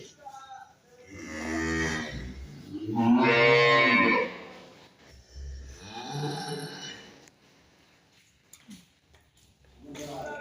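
Holstein Friesian dairy cows low repeatedly on a farm in several long, drawn-out moos of varying pitch, fairly close and spaced by brief pauses, with no talking.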